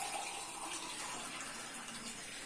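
Water is poured into a pot in a Pakistani village kitchen while cold-water semolina halwa is being made, giving a soft, steady gushing stream that runs faint and unbroken for about two seconds.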